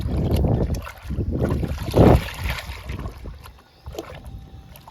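Groundnut cake liquid being stirred into eight litres of water in a bucket for fruit plants: continuous loud sloshing and swirling, with a sharper splashing surge partway through before it eases off.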